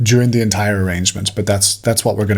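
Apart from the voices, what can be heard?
No distinct noise like a dog, phone or traffic.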